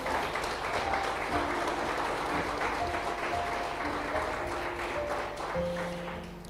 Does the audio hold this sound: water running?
no